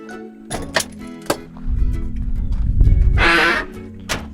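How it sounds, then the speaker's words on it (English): Dry hood hinges on a 1980 Ford Mustang Turbo 4-cylinder barn find creak loudly as the hood is raised, with a long groaning squeal amid a few metallic clunks, close and without speech. "Someone needs to grease those hinges."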